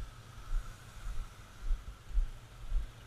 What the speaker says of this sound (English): It's got a nice little rumble to it. Just got that killer little 350 sound.